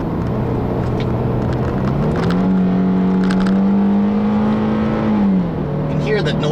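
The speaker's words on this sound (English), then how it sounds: "The engine gets a little loud for my taste at higher revs" A 2012 Infiniti G37 sedan's engine drones loud and close from inside the cabin, its pitch climbing as revs rise, holding high, then dropping back.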